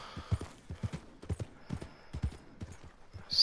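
Hooves clip-clop in a steady walking rhythm, close and clear, with a brief higher chime near the end, from a horse in Red Dead Redemption 2.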